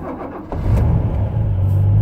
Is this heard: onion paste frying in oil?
no